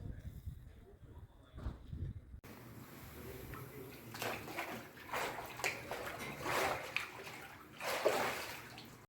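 Spring water at a St. Anne holy spring trickling and splashing nearby, a soft continuous wash with brighter splashes that pick up toward the end, fairly faint overall.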